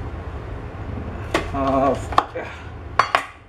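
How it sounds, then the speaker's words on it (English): A knife cuts through onions on a cutting board in a home kitchen, with a few sharp clacks of the blade striking the board amid faint rustling, close and fairly loud, with no talking over it. "onions here, cut into such and such, cut in half"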